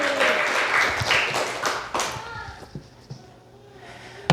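A church congregation in Incheon claps during a sermon: a loud group burst of clapping that fades after about two seconds into a few scattered claps and room murmur.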